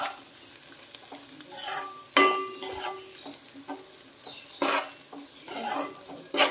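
Ingredients with ginger-garlic paste fry in a pan for a fish curry, close sizzling under repeated scraping stirs of a utensil against the pan, with a few sharper knocks standing out.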